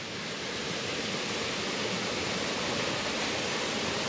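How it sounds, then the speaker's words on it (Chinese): A small mountain stream on the Dahukeng hiking trail flows with a steady, even rushing hiss, close by and uninterrupted, with no voices. "這裡有小溪澗"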